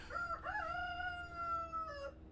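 A grown rooster lets out a single long, drawn-out crow at a moderate distance, fairly faint against quiet background noise.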